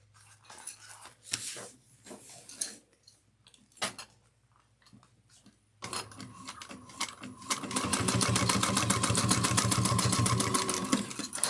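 Sewing machine top stitching a bag at an eighth of an inch, a few short starts and scattered taps at first, then a fast steady rattling run that grows louder and continues to the end.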